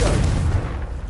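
A deep booming blast from the Confringo spell in Hogwarts Legacy, one short, loud low rumble that fades within a second.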